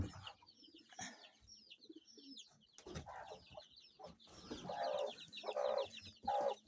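Kienyeji hens and chicks in a warm farm room: high, busy chick peeping runs throughout while a mother hen clucks low and near in short repeated bursts, growing louder toward the end.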